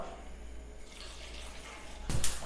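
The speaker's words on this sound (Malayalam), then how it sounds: "ഇതിലേക്ക് 1/2 കപ്പ് വെള്ളം ഒഴിച്ചു കൊടുക്കാം" Half a cup of water poured onto half a kilo of jaggery in a pan while making banana payasam, a soft steady trickle ending in a brief louder splash near the end.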